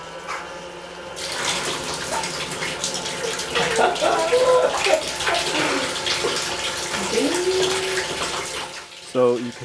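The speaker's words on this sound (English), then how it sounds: "The bucket underneath creates more or less of a closed cycle so that the water is recollected and pushed up again" Water splashing and trickling steadily into a bucket under an electrified lamp in a closed demineralized-water cycle, a continuous close pouring sound with a faint hum underneath and a brief clunk near the end.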